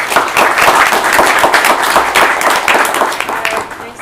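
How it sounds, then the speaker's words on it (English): Conference audience applauding after a panel talk on tech ecosystems, loud close clapping from a room full of people that stays full and steady for a few seconds before easing slightly. "Let's have a round of applause."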